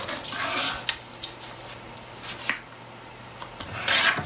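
Green cardstock being trimmed on a paper trimmer gives a few quick rasping slides and scrapes, close and fairly soft, in short irregular strokes with brief pauses.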